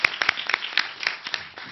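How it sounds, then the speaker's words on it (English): Applause from a forum audience welcoming a speaker, a short burst of scattered, distinct hand claps at irregular intervals, fairly close and thinning out toward the end. "May we have a round of applause, please, for Her Excellency."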